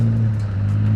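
Rally car with 4x4 drive runs loud and close on a rally stage, its engine droning with a steady low hum and rising revs through a short pass.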